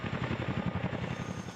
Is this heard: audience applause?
no